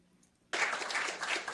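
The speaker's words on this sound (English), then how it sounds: "Let's give her an applause" Audience applause for a woman after her performance at an event, starting abruptly after a brief quiet moment and continuing as steady, moderately loud clapping to the end.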